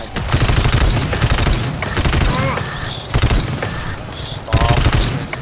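Rapid gunfire rattles in co-op shooter GTFO, loud and close, with bursts of automatic shots, mechanical clatter and brief pauses between volleys.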